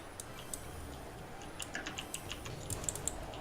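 Quick, light keyboard and mouse clicks from someone gaming on a computer, an irregular patter of soft taps close by in an otherwise quiet room.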